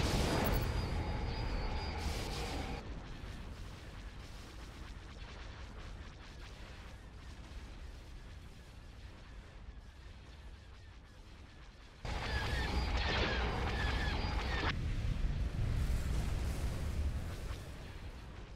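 Artillery fire in a Star Wars strategy game rumbles as a dense, continuous barrage of booms and blasts, loudest in bursts at the start and again later.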